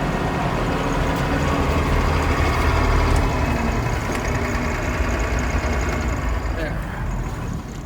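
A John Deere 6600 combine engine idles on a farm, a steady low mechanical drone that holds evenly throughout, close and continuous with a slight easing near the end.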